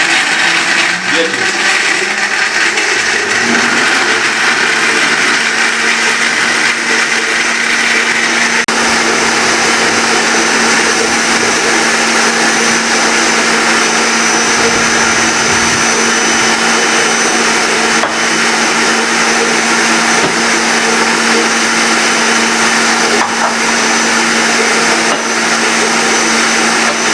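A blender runs steadily at high speed, churning mango milkshake with ice for a commercial batch. A loud, continuous whir holds throughout with a grinding edge from the ice, and no talk over it.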